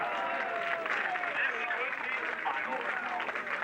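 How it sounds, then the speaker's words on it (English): Crowd cheering and applauding at the 1998 Street Fighter Alpha 3 World Championships, a steady roar of clapping and voices with someone talking over it. "I'm loving the energy from the crowd."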